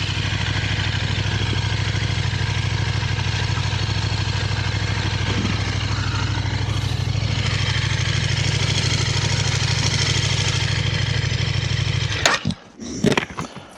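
A 2025 KTM 1390 Super Duke R motorcycle idles nearby with a steady, deep, even rumble that holds unchanged for about twelve seconds, then cuts off abruptly into a few brief clattering knocks.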